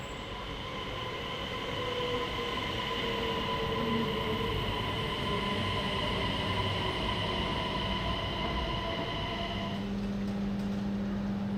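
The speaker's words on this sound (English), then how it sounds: "our train appears in the distance and pulls into the platform" An SJ 3000 (X55) Bombardier Regina high-speed electric train pulls into a station platform, its steady motor whine and rolling rumble holding through the approach before the tones drop near the end and a lower squeal remains.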